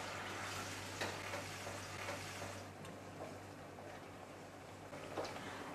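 Ground masala paste for prawn masala sautés in a pan, making a faint, steady sizzle with soft scraping from stirring.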